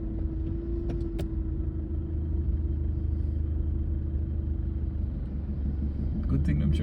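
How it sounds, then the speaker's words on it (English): Slow-moving traffic on a Trinidad road on a Friday evening makes a steady, close engine rumble with a constant low hum, and people talk over it. "we are in traffic, but this is slow-moving traffic"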